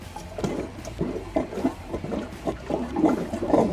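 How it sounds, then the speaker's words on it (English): A clogged toilet is flushed again, giving a gurgling, sloshing rush of water with uneven pulses of churning and draining, moderately close and without speech. "I'm gonna go ahead and flush it again"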